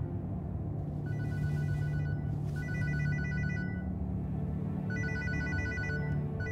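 Telephone ringing with an incoming call, a loud, repeated electronic ring in short bursts over a steady low hum, with brief gaps between the rings.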